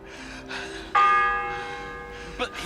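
A church bell tolling in the video game Kingdom Come: Deliverance 2, a single ringing strike with a long fading hum over quiet background.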